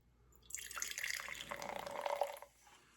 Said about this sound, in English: Let's pour here.